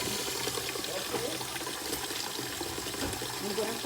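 Tap water runs steadily in a kitchen while lobster tails are being prepared, a constant close rushing hiss with no breaks.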